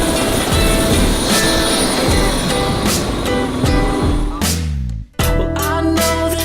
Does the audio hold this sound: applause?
no